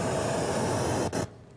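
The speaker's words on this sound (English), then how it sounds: "We got our pink noise" Pink noise test signal played through a car audio system for RTA tuning with a DSP, a steady loud broadband hiss that runs alone and cuts off abruptly near the end.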